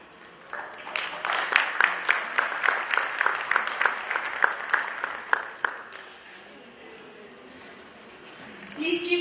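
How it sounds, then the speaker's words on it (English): An audience at an Indian stage event honouring heroes claps warmly for a performer. The dense applause runs for about five seconds and then fades into a quiet hall. "Please give a big round of applause for her."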